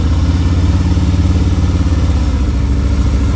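A motorcycle ridden slowly with clutch control at Daytona Bike Week 2022, its engine a loud, close, steady low-pitched thrum with an even pulsing beat and no revving.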